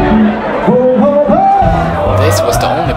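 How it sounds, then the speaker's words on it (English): Crowd chatter fills Fishbowl, a packed island bar in Thailand, as many voices overlap in a loud, continuous hubbub with occasional raised shouts. "This was the only bar on the island that had a lot of people, it seemed like."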